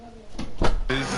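A bedroom door being pulled shut, a short wooden thud and latch click at close range, with a voice and broadcast commentary continuing in the background.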